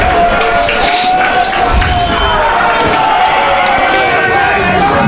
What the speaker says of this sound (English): A few fans trying to get both sides cheering.